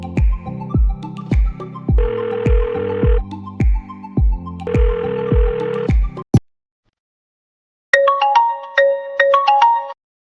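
A phone rings while a call is being placed, giving repeated ringback tone bursts in a steady pattern, then a short silence before a different electronic melody of quick bright tones.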